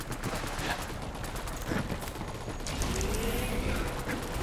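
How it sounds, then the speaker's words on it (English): Steady gunfire and mechanical clatter from turrets in the video game Borderlands 3, a dense continuous barrage with occasional sharper bursts, loud and close throughout. "Get those turrets firing!"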